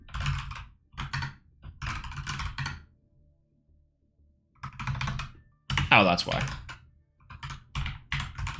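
Rapid typing on a computer keyboard during a Yu-Gi-Oh! Master Duel session, dense bursts of clicks between stretches of someone talking, with a louder burst near the end.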